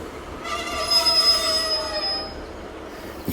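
A train at Plymouth railway station squeals on the rails, a high, sustained metallic screech that rises and then fades over a few seconds, with no voices.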